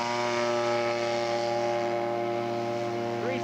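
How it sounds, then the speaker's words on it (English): A scale model de Havilland aircraft flies with a steady, droning engine hum holding a constant pitch, fairly close and continuous throughout, with a slight pitch shift near the end. "Bruce Harlow is in the air with the de Havilland."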